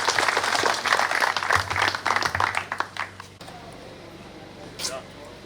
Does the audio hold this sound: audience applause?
yes